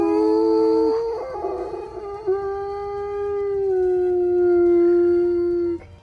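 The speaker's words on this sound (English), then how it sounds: "which I don't know how bad an actual Doberman howl sounds" A Doberman dog howls in one long, loud, sustained tone, close by and alone, wavering and dipping briefly in pitch near the start before holding steady and cutting off after about six seconds.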